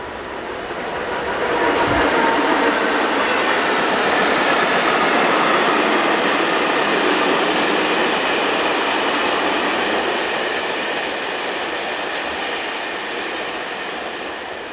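A grubby Class 363 locomotive hauls a local freight train northbound, a steady rumbling wash of wheels and wagons that swells in, holds loud for the whole pass and eases slightly toward the end, with no talk.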